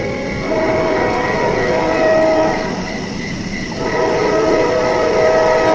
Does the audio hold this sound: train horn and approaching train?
yes